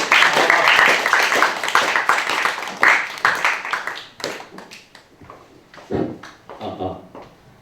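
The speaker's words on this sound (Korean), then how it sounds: "기대하고 큰 박수 부탁드리겠습니다." An audience at a school entrance seminar bursts into dense, loud applause that holds for a few seconds, then thins into scattered claps and fades out.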